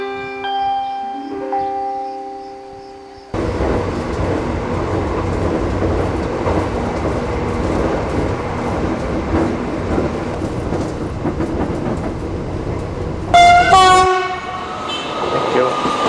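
A passenger train bound for Chenonceau rolls into the station with a loud, steady rumble and clatter after a tonal chime, ending with a sharp squeal of brakes.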